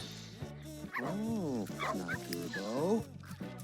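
Puppies in The Sims 3 yip, whimper and bark in a quick series of high, bending calls, loud and close over a faint game soundscape.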